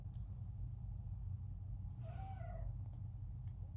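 A cat lets out a single drawn-out meow for attention, faint and slightly distant, over a low steady rumble of room noise.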